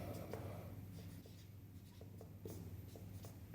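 Chalk or marker writes quickly across a classroom board during maths working, a faint run of scratchy strokes and taps with no voices heard.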